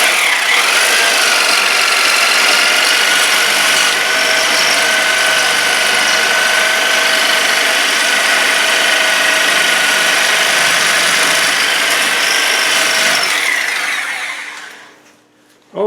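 Sawzall reciprocating saw cutting through rusty bolts during an axle strip-down, a loud continuous metallic buzzing and grinding that holds steady for about fourteen seconds before winding down, close and with no talking.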